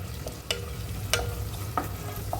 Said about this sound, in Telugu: ఉల్లిపాయలు వేయించుకోవాలి